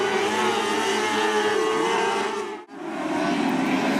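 Wingless 600 race cars roar together at the Kutztown Fair as they take the green flag, a loud, dense, continuous engine howl with one brief dip partway through.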